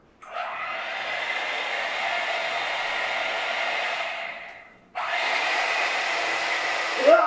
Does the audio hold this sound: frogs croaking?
no